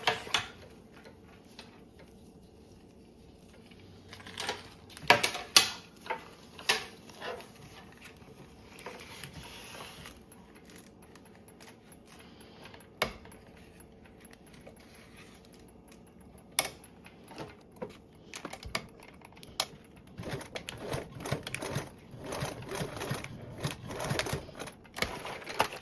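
A sewing machine stitches a detachable strap piece with short, quiet bursts of rapid clicking ticks that start and stop irregularly, close by and fairly faint.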